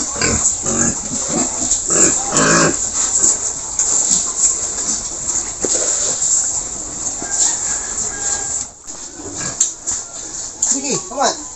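Fattener pigs in a pen on a farm, grunting and squealing continuously and loudly up close, with someone talking over the noise throughout.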